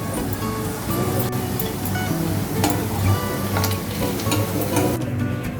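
Anchovies (nethili) fry in hot oil for a nethili 65, a steady crackling sizzle with scattered sharper pops, close and fairly loud throughout.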